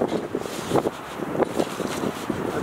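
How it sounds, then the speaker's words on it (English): Gusty wind buffets the microphone in uneven bursts, a rough, rumbling whoosh with no talking. "It's quite windy."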